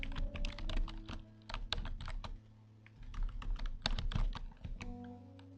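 Computer keyboard keys tapped in quick irregular bursts to move a character in a video game, close and crisp clicks with short pauses between flurries, no talk.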